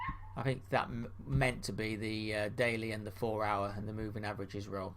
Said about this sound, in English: Sorry about the dog barking at the door.